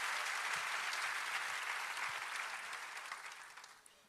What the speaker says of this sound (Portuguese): Você pode aplaudir ao Senhor pela sua palavra agora?